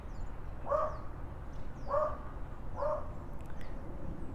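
Three evenly spaced dog barks about a second apart, distinct and moderately distant over a soft background hum, with no one talking.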